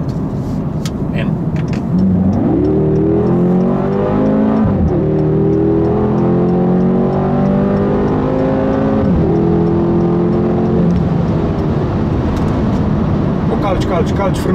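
A 2012 BMW X6M accelerating hard, its engine note climbing loud and close through successive gear pulls with brief dips at each shift; a voice speaks over it.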